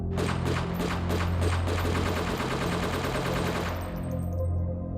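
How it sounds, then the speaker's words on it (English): Rapid bursts of gunfire ring out in a loud, sustained volley before cutting off abruptly. "Gunshots rang out"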